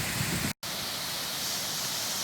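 A fairly small waterfall near Crescent Lake rushes in a steady broadband hiss, close and constant, broken only by a brief cut in the sound.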